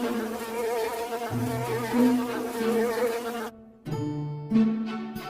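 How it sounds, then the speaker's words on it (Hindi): A swarm of cartoon bees buzzes continuously in close, droning tones that shift pitch as they fly around, with a brief cut to near silence before the buzzing resumes. "जंगल में सारे मधुमक्खियां वहां पर उड़ते हुए आ जाते हैं।"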